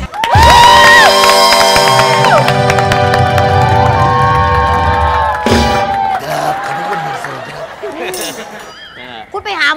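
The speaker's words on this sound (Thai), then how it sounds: "ขอเสียงปรบมือต้อนรับคุณทองแท้ครับ" A studio audience at a Thai comedy variety show applauds and cheers loudly as a guest is welcomed. Dense crowd noise and music fill the first half, then fade under voices talking.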